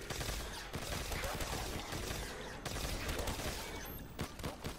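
Rapid gunfire in the Call of Duty Black Ops 3 zombies mode, Nacht der Untoten map, a BRM weapon firing in dense continuous bursts with a few sharper single shots over a steady game background.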